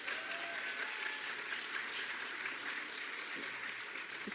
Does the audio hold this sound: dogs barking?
no